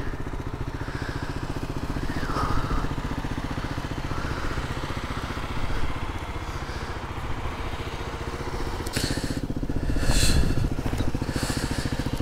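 A brand-new Kawasaki KLX300 dirt bike engine runs steadily up close, a continuous rough buzzing drone with slight swells in revs and faint rattling over it. No one speaks.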